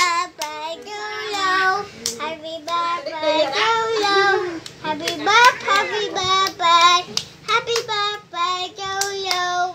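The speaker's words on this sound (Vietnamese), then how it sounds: "Ồ, vỗ tay lên." Hand clapping mixes with lively singing voices at a child's first birthday celebration. The claps are close and keep going under the continuous sung melody.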